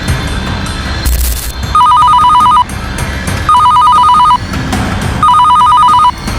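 A telephone rings loudly in an Indonesian animated cartoon. Three separate bursts of rapid electronic trilling are spaced evenly over a noisy background.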